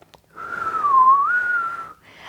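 A voice imitates a whistle: one sustained whistled tone lasting over a second, wavering slightly in pitch, close and alone.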